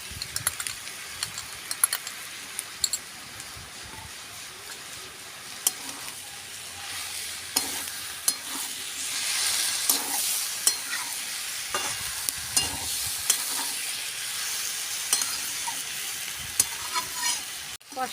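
Young jackfruit fries with beaten yogurt in a pan, a soft steady sizzle under repeated scraping and stirring strokes of a spatula, with louder bursts of frying midway through.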